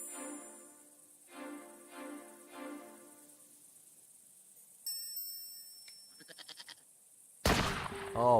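A goat in Broken Sword 5 bleating three or four times in short repeated calls, quiet and clear against silence, followed by small clicks and a brief burst of noise.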